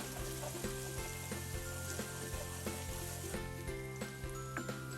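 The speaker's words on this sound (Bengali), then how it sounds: "এখন আমি পেঁয়াজ কুচিটাকে একটু নরম করে নিব" Chopped onions sizzle and soften in oil in a pan for a tomato chicken curry, a close, steady frying crackle with sharp spattering pops recurring throughout and no voices.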